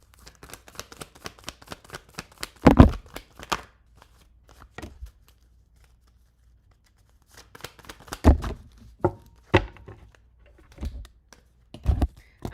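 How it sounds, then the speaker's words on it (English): Tarot cards shuffled by hand in short bursts of crisp riffling and tapping, separated by stretches of near silence, close and fairly loud with no talking. "When I was shuffling your cards, Stephanie, the Four of Wands came out"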